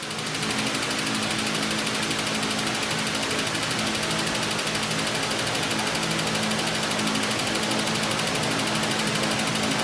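An Autool CT 200 fuel injector cleaner and tester runs its idle test, giving a steady mechanical whir with a fast ticking pulse that holds even and fairly loud throughout.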